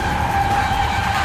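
Porsche Taycan electric car tires squealing through a smoky burnout, a continuous loud, close screech with a steady high whine throughout.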